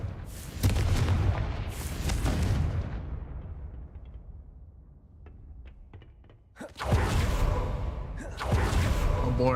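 Confringo blasting-spell explosions in a Harry Potter video game on ultra settings: a loud booming burst that rumbles and decays over a few seconds, then a second pair of heavy blasts after a quieter gap.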